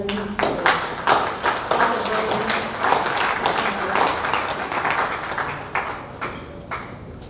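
Applause and clapping from an audience at an international conference on media education and digital citizenship, a steady spread of hand claps rising and tapering over several seconds, with some talk underneath.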